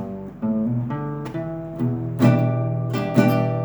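A nylon-string guitar plays a slow sequence of plucked notes and chords, warm and close, each ringing out before the next.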